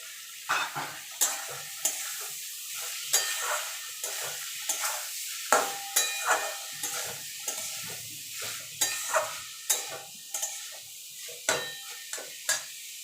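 Grated papaya stirs into fried chickpeas in a hot pan, giving a steady soft sizzle broken by repeated sharp scrapes and clacks of a spatula against the pan, close and without talk.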